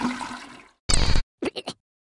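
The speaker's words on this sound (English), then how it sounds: "If you pick this answer hoping to hear a toilet flush sound" Toilet flush sound effect from a Jackbox party video game: a loud rushing, gurgling swirl of water that drains away, followed by a short burst and a few brief clipped sounds.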